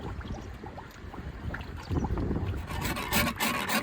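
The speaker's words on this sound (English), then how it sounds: "adding dry flour straight into a warm pan and stirring it carefully, just to break up any clumps" Dry flour is stirred in a warm pan while halva is made, giving a soft, continuous scraping and rubbing close up that grows slightly louder toward the end, with no talking.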